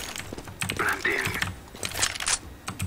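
Bomb being planted in CS:GO: rapid clicky keypad presses and mechanical beeps during the plant, mixed with game noise and short bits of voice chatter.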